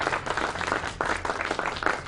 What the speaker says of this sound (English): Yes, let's applaud for them.